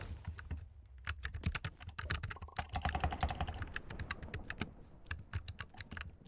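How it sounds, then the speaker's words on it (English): Steady, fast typing on a scissor-switch computer keyboard, with dense clacking keystrokes close to the microphone at moderate volume and no voices. "I believe that this keyboard has scissor switches"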